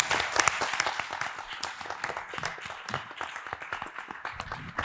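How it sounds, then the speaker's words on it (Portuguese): Conference audience applauds at a ZX Spectrum event, a lively round of clapping with irregular sharp claps, fairly close and loud, lasting several seconds. "este homem merece uma salva de palmas."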